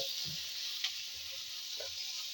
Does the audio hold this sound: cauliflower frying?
yes